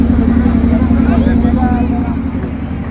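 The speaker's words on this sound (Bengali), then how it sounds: "আমাদের লঞ্চ এইমাত্র ছাড়লো" River ferry launch pulling away on a trip toward Mayapur, a loud steady diesel engine drone with a strong low hum, close and constant, with faint voices in the background.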